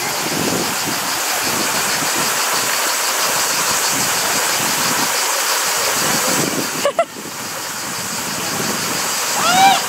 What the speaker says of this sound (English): They're trying to block the water of a freaking waterfall.